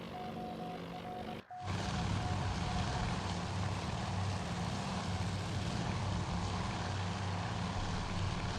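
Propeller engines of torpedo bombers flying low in a WWII naval battle in the game Task Force Admiral, a loud steady drone with a brief dropout near the start, then continuous and heavy.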